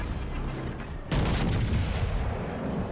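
Secondary guns on the Italian battleship Giuseppe Verdi fire SAP rounds in a World of Warships Legends ranked battle, a loud, dense roll of booming shots that begins partway through and continues over low rumbling ambience.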